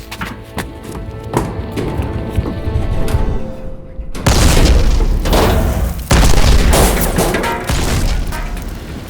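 Dynamite blasts go off in a loud, deep boom, then a second heavy thump follows a couple of seconds later, with rumbling debris and crackle in between.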